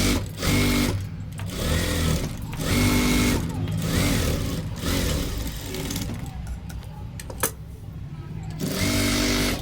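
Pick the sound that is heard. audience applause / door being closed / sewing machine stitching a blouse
sewing machine stitching a blouse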